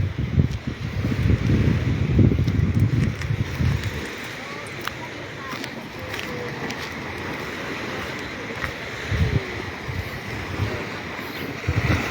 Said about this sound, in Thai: ลงชายหาดหน่อยชายหาดส่วนตัว ไม่มีใครเล่นน้ำเลย